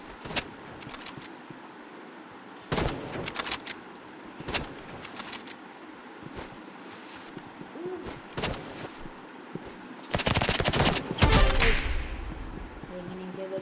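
Gunfire in the shooter video game Rivals comes as sharp, loud bursts spaced through the clip, with a dense, heavier volley of rapid shots near the end.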